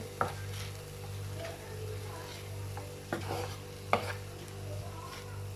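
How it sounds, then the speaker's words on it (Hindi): Vegetables being stirred in a pan over medium flame with vinegar and chili sauce, giving soft scraping stirs and a few sharp utensil clinks against a steady low hum, no talking. "सिरका, चिली सॉस ये ऐड कर रही हूँ और इसे कर रही हूँ मिक्स अच्छे तरीके से।"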